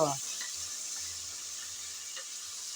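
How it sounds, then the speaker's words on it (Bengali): Ginger-garlic paste frying with onions in a pan for a chana dal dish with goat trotters gives a soft, even sizzle hiss, fairly faint, with a low murmur of background noise underneath. "আদা রসুন বাটা দিয়ে আবারও একটু পেঁয়াজের সাথে নেড়ে চেড়ে ভেজে নেব"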